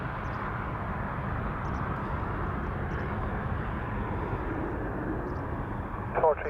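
Airliner landing at Dublin Airport on arrival from Vienna, a steady distant jet rumble holding level throughout, with a brief faint click near the end.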